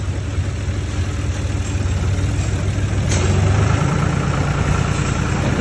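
A tractor engine runs at a cow farm in Nepal during manure clearing, with a steady, continuous low rumbling drone that holds at an even level throughout, with no talk.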